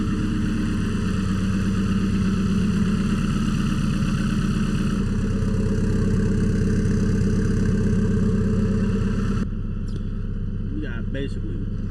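A turbocharged Honda Civic EK engine idles steadily up close while warming up after a turbo install, holding a constant rumbling drone that drops slightly in level toward the end.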